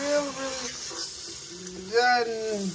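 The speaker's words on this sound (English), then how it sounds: "go ahead and, put some real steaming hot water on them" Steaming hot water poured from a tap over dried navy beans in a kitchen before pressure cooking, a steady close splashing gush that rises in pitch as the container fills, with a brief louder surge.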